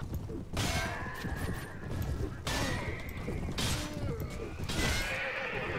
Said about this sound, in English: Oh, there goes me horse.